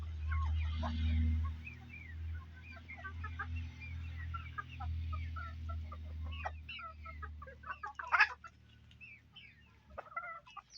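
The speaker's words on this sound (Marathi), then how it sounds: "कोंबडा बघा" Soft, repeated clucking from free-range backyard chickens and a rooster in Konkan, scattered calls over a low background hum, with a sharper squawk rising near the end.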